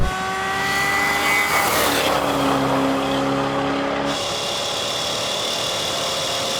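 A drag race car's engine screams loudly, its pitch climbing through gears before it cuts and shifts, then fades into a steady higher whine with no talk.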